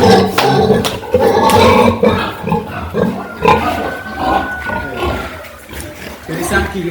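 Pigs on a French farm grunting and squealing in a busy, loud stretch of mixed animal noise, with people talking throughout.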